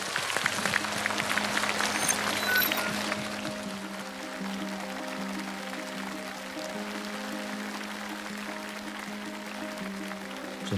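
Audience applause for street dancers on a competition stage, a dense burst of clapping from a crowd that fades after a few seconds into quiet hall ambience with a low sustained tone.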